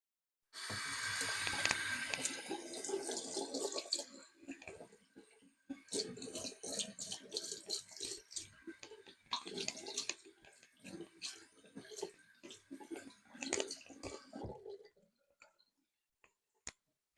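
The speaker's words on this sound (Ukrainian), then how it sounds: "Ну, а тепер давайте пустимо водичку, подивимось." Water runs from a tap into a stainless steel sink, starting as a loud continuous stream, then breaking into irregular splashing and spattering bursts before stopping.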